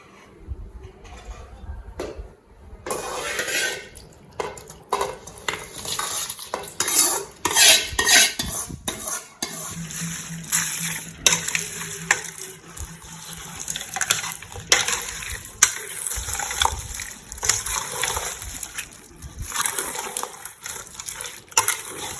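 A spoon clinks and scrapes in a metal bowl while cooled oil is mixed into instant mango pickle pieces. The stirring runs as a steady, close rhythm of small metallic taps and wet scraping, with no voice over it.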